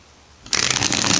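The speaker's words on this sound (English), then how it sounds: "Okay, one more shuffle. One more shuffle." A tarot card deck is riffle-shuffled after a quiet start, giving a sudden close burst of rapid, crisp flapping card clicks that runs to the end.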